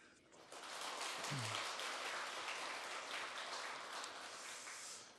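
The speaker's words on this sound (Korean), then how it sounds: "주님께 영광의 박수를 올려드렸으면 좋겠습니다" A church congregation applauds during a Sunday worship service, a faint, even wash of clapping that holds for several seconds with no voices over it.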